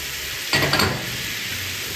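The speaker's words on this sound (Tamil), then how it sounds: "மாவை போட்டு கலக்க அது ஒரு புட்டு தன்மையாக வரும்" Flour stirred into melted butter in a hot pan for a lasagne sauce, under a steady bright sizzle, with a brief burst of scraping and stirring midway. The sound is close and fairly loud.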